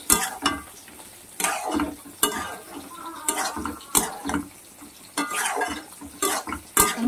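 Lote fish pieces and potatoes are stirred in a cooking pan, producing irregular scraping clatters of the spatula against the metal at close range over a soft simmering sizzle.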